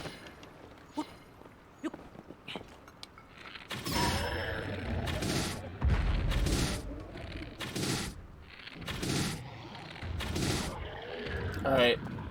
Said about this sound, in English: this Hinox is going to explode